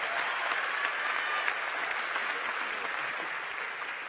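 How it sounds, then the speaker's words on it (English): An audience claps through a sustained round of applause at a university commencement ceremony, dense and even with no speech over it. "we can applaud for Owen for that."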